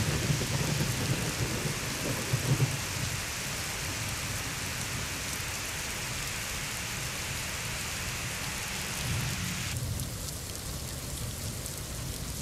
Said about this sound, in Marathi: नैऋत्य मोसमी पावसाचं महाराष्ट्रामध्ये आगमन झालेलं आहे